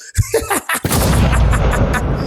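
Gunshot sound effects played on a podcast: several sharp, loud close blasts in quick succession, then a sustained booming roar like heavy artillery fire.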